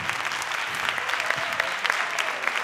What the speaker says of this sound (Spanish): Anda, aplaudidme que tome agua.